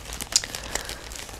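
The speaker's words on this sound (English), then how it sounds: "Sorry for the rustling." Close, crinkly rustling of a plastic bag or packaging, a few sharper crackles standing out from soft continuous crumpling.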